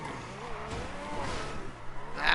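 A Ferrari F80 in a racing video game, its engine note rising and falling as it revs through a short stretch, with tire noise underneath and a brief louder surge at the end.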